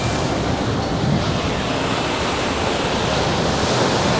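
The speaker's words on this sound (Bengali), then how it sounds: "দেখুন কত বড় বড় ঢেউ আছড়ে পড়ছে" Large monsoon-season ocean waves crash on Negombo beach in Sri Lanka, a loud, unbroken roar of surf filling the whole stretch, with no voices.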